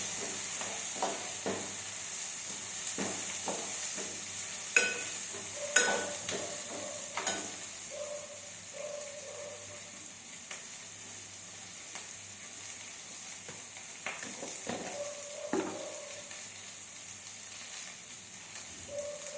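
Moong dal frying in oil in a pan, giving a soft, continuous sizzle with scattered clinks and scrapes of stirring throughout, fairly close and moderately quiet.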